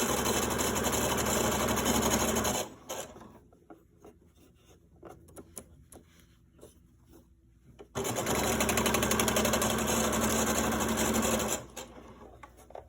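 A sewing machine stitches fabric for a grocery bag holder, running in two steady, loud bursts of rapid motor-driven stitching separated by a quieter pause with light handling sounds.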